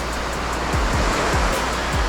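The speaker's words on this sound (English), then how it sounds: "it's absolutely beautiful, and so calm is the ocean" Calm ocean water near a paddleboarder makes a continuous, close wash of surf, steady and unbroken, with no voices.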